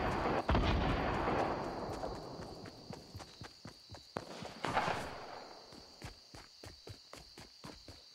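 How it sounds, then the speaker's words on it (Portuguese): Grenade launcher explosions in a Fortnite solo match: two heavy booming blasts, one near the start and one midway, surrounded by a rapid scatter of sharp gunfire and impact cracks at moderate volume. "Olha as granadas de launcher."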